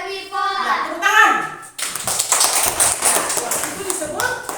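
Children in an elementary classroom break into a burst of rhythmic group clapping that runs for several seconds, loud and close, after a short stretch of a voice with children's voices mixed in.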